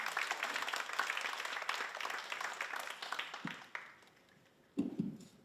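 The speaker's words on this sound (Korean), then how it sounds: "박수로 환영해 주시기 바랍니다." An audience claps steadily to welcome a speaker onto the stage at a leadership lecture, dense applause fading out toward the end, followed by a brief burst of noise.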